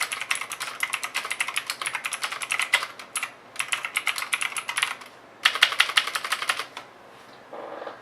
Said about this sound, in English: This is a typing test on the Zero.